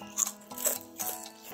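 Garlic chips (kerupuk bawang putih), crisped in a microwave, crunch between teeth in close, repeated bites with short sharp crackles, alone without talk.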